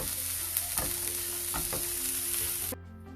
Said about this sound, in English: Once the onions fry, we can turn off the stove and then grind this into smooth paste.